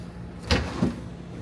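Drawers in a camper being opened, two quick wooden-sounding knocks and slides about a third of a second apart, close by.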